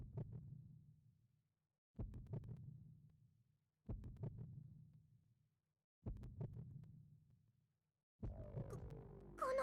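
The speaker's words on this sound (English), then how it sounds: "The heartbeat of the Shadow Dragon itself?" A monstrous Shadow Dragon's heartbeat from the game Tokyo Mirage Sessions #FE Encore: five deep, booming throbs spaced about two seconds apart, each fading slowly, with a brighter shimmering tone swelling in at the end.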